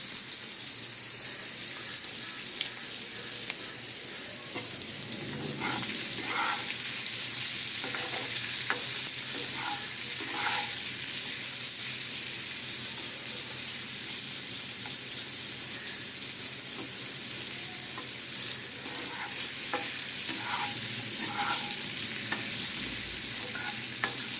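Potatoes, including yam, frying in a pan, a continuous dense sizzle with repeated scraping strokes of a spatula stirring throughout, close and steady, with no speech.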